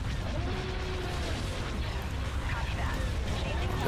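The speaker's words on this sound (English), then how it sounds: "Look at all the little explosions." Dense, continuous rumble of explosions and weapons fire from a space battle in the video game Star Wars: Republic at War, a loud, unbroken wash of booms with no distinct gaps.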